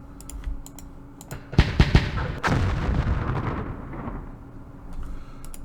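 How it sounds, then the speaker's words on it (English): Mortar fire in the Vietnam war game Campaign Series Vietnam: a few sharp booming blasts in quick succession, followed by a rolling rumble that fades, with faint keyboard-like clicks before and after. "Oh, more mortars."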